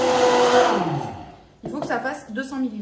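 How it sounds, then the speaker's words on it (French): An electric mixer whirs loudly while blending a deep-care dog grooming product with cold water for a spitz's complex coat; the motor sound fades out and someone speaks afterward. "je me remets à mixer et je rajoute de l'eau froide."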